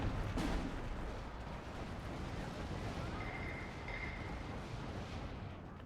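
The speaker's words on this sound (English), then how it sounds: "Two heavy bombers coming in. I thought there would be more units in here. Go for the carpet bombing." Carpet bombing by heavy bombers in the Steel Division 2 war game: a dense, continuous roar of rumbling explosions and blasts with a sharp burst near the start, loud and sustained throughout.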